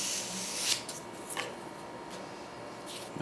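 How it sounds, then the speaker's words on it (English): Scrap foam rubbed over a foam model airplane to squeegee off excess glue, close, soft scuffing and rubbing strokes in short bursts with no talk. "take another piece of scrap foam and squeegee down any excess glue"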